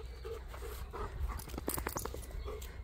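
Two dogs out in a wide park, with light panting, soft whimpers and scuffling movement close by over a quiet outdoor background.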